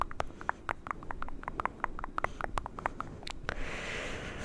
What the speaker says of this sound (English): I can do mouth sounds like kind of like poppy puffs